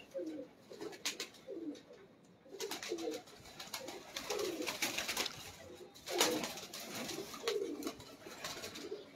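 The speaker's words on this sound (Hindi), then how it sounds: "ये भी बड़ा शर्मीला कबूतर" Soft, repeated cooing from pigeons kept by a breeder, the low rolling calls arriving in a steady series against faint outdoor background noise.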